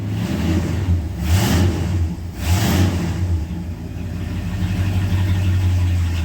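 A 1968 Ford XL engine, with a damaged exhaust manifold, runs at a loud close idle with a low steady drone, rising in two brief revs before settling back to an even rumble; no one speaks.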